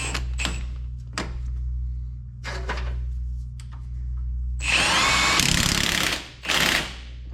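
Power tool tightening the 15 millimeter ball joint retaining bolts on a Polaris Ranger, with a few short bursts and knocks, then a louder sustained whirring run that briefly cuts out and resumes, close and over a steady low hum.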